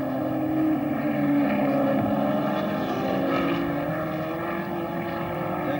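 Jack Brabham's racing car at the 1963 Australian Grand Prix drones past with a sustained, loud engine note that slowly shifts in pitch, steady throughout with no voices.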